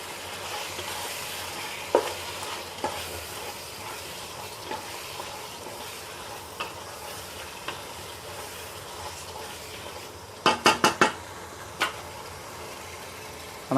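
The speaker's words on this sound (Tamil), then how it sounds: "கொத்தமல்லியும் புதினாவும் அது கொஞ்சமாக மிக்ஸ் பண்ணுங்கள்" A spoon stirs chopped coriander and mint into chicken biryani in a pot over a low, steady sizzle, with scattered scrapes and a quick cluster of loud clanks near the end.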